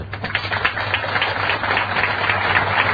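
A congregation at a church sermon claps in a brief, uneven round of applause over a low steady hum.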